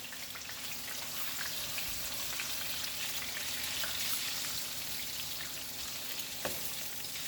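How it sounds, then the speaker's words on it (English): Pieces of food frying in hot oil give a steady, dense sizzle and crackle throughout, close by and even in level, with one sharper pop near the end and no talk. "They're gonna open up in the oil, but they're gonna be cool shapes."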